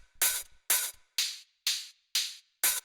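Two layered house-music hi-hats play together alone, six crisp bright open-hat hits in a steady even pulse, each with a short hissing decay.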